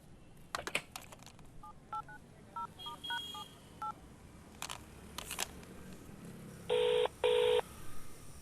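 Telephone dialing tones from a Tamil film sound as a quick sequence of short beeps, then two longer louder tones, with scattered clicks and handling sounds around them.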